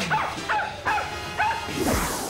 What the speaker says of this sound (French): Pénible ce chien là.